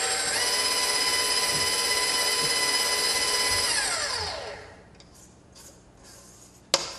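An electric kitchen mixer creams batter with eggs, a loud steady whine that runs for several seconds, spins down and stops, followed by a quiet pause and a small clack.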